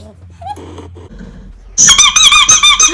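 A toy shark squeaks loudly in a rapid series of high, pitched squeals after a stretch of faint background sounds and brief voices.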